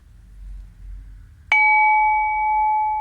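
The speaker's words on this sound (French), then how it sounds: "on retrouve notre bol, notre grand bol tibétain. Alors je vais vous le faire sonner." A large Tibetan singing bowl is struck once and rings out with a sustained, clear, pure tone that lingers steadily after a sharp initial strike, following faint background rumble.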